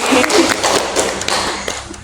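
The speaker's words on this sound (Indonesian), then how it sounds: "Ayo tepuk tangan dulu teman-teman." Scattered claps from a small group of high school students, brief and fairly close, fading out within a couple of seconds.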